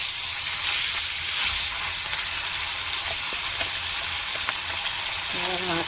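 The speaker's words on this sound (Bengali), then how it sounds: "এবার মাছটা তুলে দেবো, ভালো করে ভেজে নেবো মাছটাকে।" Pieces of rohu fish frying in hot oil in a pan, with a loud, steady, dense sizzle and crackle continuing throughout, close up.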